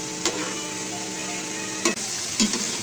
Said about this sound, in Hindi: अब हम इनकी साइड चेंज करते हैं और साइड चेंज करके इन्हें मज़ीद ब्राउन होने तक, गोल्डन ब्राउन होने तक पकाते हैं।